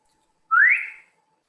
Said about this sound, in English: Why did you just whistle?